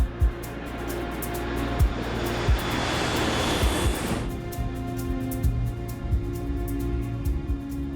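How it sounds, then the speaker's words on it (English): Royal Air Maroc airliner taking off in rain and moderate thunderstorms: a loud, steady engine roar with a rushing noise that swells and then cuts back, under a constant wash of rain. "The Royal Air Maroc flight departs without incident."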